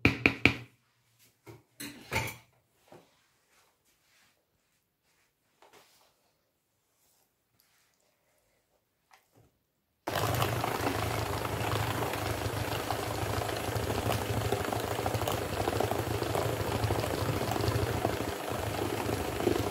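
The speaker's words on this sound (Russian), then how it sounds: "И взбиваем миксером." Electric mixer whipping batter for a pear pie, a continuous loud whirring drone that starts abruptly about halfway through after scattered faint kitchen knocks and near-silence.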